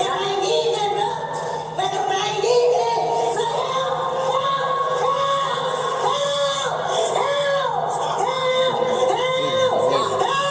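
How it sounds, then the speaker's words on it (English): Loud, sustained yelling from a man in a courtroom, with wavering shouted cries rising and falling continuously throughout, close and harsh. "This is the yelling that they're hearing in the courtroom."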